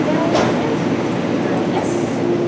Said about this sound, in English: This is a Metro Line train going to 8.